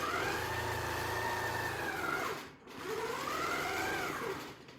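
A longarm quilting machine runs in steady whirring bursts as it stitches around a corner, its motor pitch rising and falling, pausing briefly in the middle before starting again.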